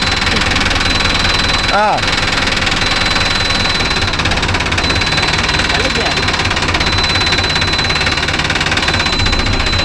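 A Mahindra Arjun Novo 605 DI tractor engine runs steadily and loudly close by, a constant rumbling drone heading out to rotavator work in a cotton field, with a brief voice over it.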